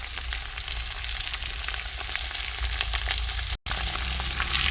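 Okra sautéing in a pan for a spicy Tamil tamarind gravy, a dense steady sizzle and crackle running throughout, loud and close, with a brief cut to silence near the end.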